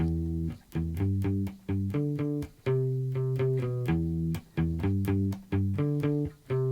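An electric guitar plays palm-muted, chugging root notes of the verse chords of a song in a steady rhythmic pattern, shifting between a few low pitches, close and fairly loud.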